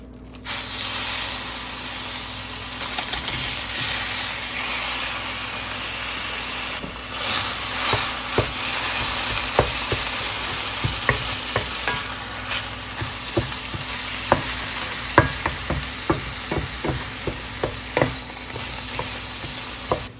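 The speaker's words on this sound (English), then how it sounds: "we're going to go ahead and get started and add the ground meat to the pan" Lean ground deer meat hits a hot pan and sizzles loudly and steadily, with a utensil stirring and scraping it in sharp, irregular clicks and knocks that grow busier toward the end.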